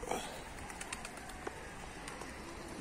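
Turkish tumbler pigeons such as bango and baska around an outdoor loft, soft intermittent cooing and faint chirps at moderate distance, with a brief wing-like rustle at the start.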